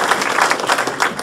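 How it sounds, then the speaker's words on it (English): An audience applauding at a 2019 Lebanon State of the City address, a dense, close wash of many hands clapping together throughout the short stretch. "I think they deserve a round of applause"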